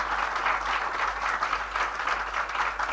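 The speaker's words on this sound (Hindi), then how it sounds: "मैं चाहूँगा आप लोग जोरदार तालियों से उनका स्वागत करें" A college audience at a management institute event claps to welcome a UNICEF guest, a steady wash of many hands that stays even and moderately loud throughout, with a low hum underneath.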